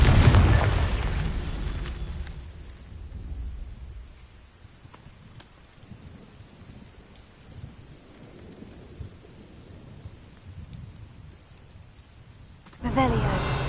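A Confringo blast spell goes off in Hogwarts Legacy with a loud opening boom that rumbles and fades into a low, quiet tail, then a second burst strikes near the end.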